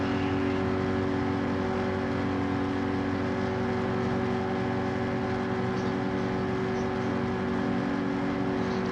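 Porsche race car engines in Gran Turismo 7 drone steadily and loudly, a continuous sustained engine hum with no pauses.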